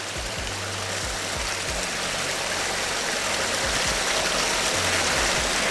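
Rushing waterfall in a Puerto Rico rainforest, a steady loud broadband roar of falling water that continues without a break, with no voices.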